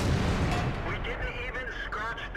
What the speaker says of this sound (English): This tank has a loud gun, in case you didn't just tell.